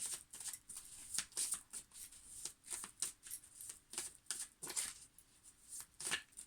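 Atlantis Oracle cards being shuffled by hand, close and fairly quiet, in a steady run of soft riffling bursts and flicks with no talking.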